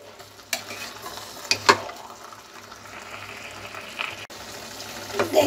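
Carrot halwa with khoya being stirred and roasted in a pan, a soft low sizzle broken by a few sharp scraping knocks of the spoon, fairly quiet with no talk.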